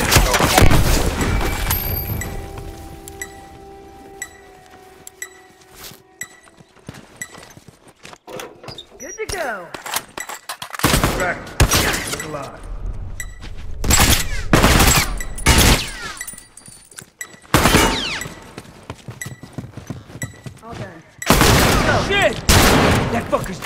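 Rapid bursts of automated turret gunfire in The Last of Us multiplayer, loud sharp volleys repeating in clusters with brief gaps, mixed with game sounds and speech.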